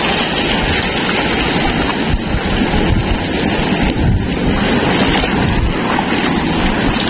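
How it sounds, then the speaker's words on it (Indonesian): High ocean waves break at a surf spot as a loud, constant roar of surf, mixed with heavy wind buffeting the microphone, and no one speaks. "Ini lumayan tinggi di sini ombaknya nih"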